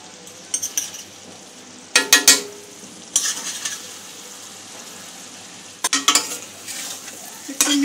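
Chicken jalfrezi being stirred in a pan after dark soy sauce goes in, with bursts of scraping and clattering spoon strokes over a steady low sizzle, spaced out with quieter frying between.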